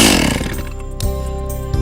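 A chainsaw set on the ground is pull-started and its engine runs loudly and steadily for about two seconds, with brief surges near the one-second and end marks.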